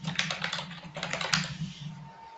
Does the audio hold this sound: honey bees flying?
no